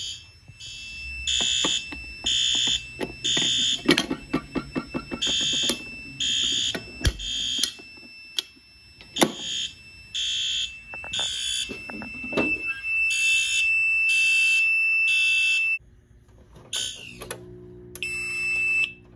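A garage fire alarm system blares in repeated loud pulses, joined by a steady high tone and a dense burst of rapid clicking midway, then cuts out before a brief trouble buzzer.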